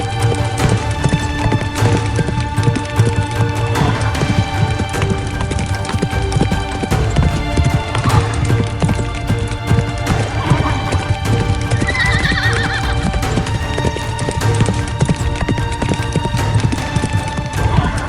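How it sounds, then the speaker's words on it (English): A horse gallops with thundering hooves onto wooden planks, dense clip-clop drumming continuous and loud, with neighs and whinnies breaking through, set against a dark, busy background score. "As Ichabod's horse thundered onto the wooden planks"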